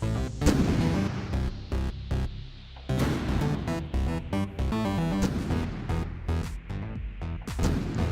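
Cannon fire from a light kinetic weapon in From the Depths: a heavy, rhythmic series of booming shots and impacts that repeat steadily over a low rumble, loud and close, no talking.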